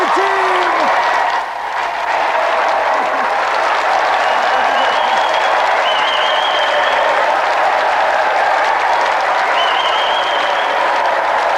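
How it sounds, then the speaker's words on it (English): Sustained, loud applause from a large TV game show studio audience, steady clapping throughout with a few faint whistles and cheers. "Let's have another round of applause for Auntie Marisha"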